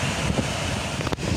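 Wind buffets the microphone on a rocky mountain descent, a steady, close roar that continues without a break, with a brief gust near the end.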